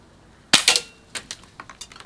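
A Crosman PSM45 BB pistol fires at pop cans, one sharp snapping shot followed by a quick rattle of light metallic impacts and clatters over about two seconds, close and without talk.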